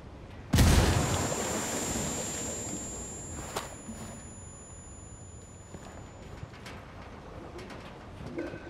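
A thrown frag grenade blows up a stockpile in the shooter game Ghost Recon Wildlands: one sudden, loud, deep boom, then a long rumbling fade into quieter ambient game sound with a thin ringing tone.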